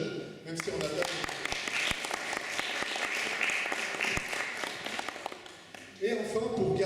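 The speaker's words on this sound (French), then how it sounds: "je crois qu'on peut applaudir nos jeunes" An audience in a Protestant church at the Temple de Cergy applauds, a dense burst of clapping that swells and carries on for several seconds before thinning out as someone starts speaking again.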